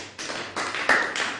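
A church congregation claps for Jesus in a few loud, rough bursts of applause, each lasting a fraction of a second, with brief gaps between them.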